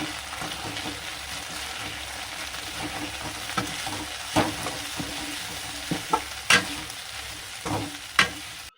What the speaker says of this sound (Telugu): ఇప్పుడు అందులో మనం గోబీ మంచిగా వేసేసి బాగా కలుపుకోవాలి.